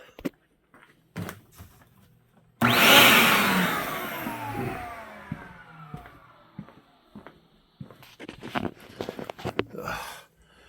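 Wet vac running while cleaning an AC evaporator, starting abruptly a few seconds in with a loud broadband roar that slowly fades and changes pitch, followed by scattered knocks and clatter.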